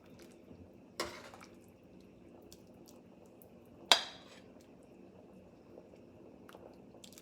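Turkey soup with sausage and beans being ladled into a warm bowl: two sharp ceramic-and-metal clinks stand out over quiet liquid sloshing and faint kitchen clatter, no talking.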